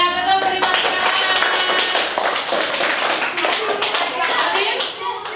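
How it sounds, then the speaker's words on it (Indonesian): A group of children claps hands during an Indonesian classroom quiz lesson, producing dense, rapid clapping that runs throughout at close range, mixed with young voices. "Iya, betul, beri tepuk tangan."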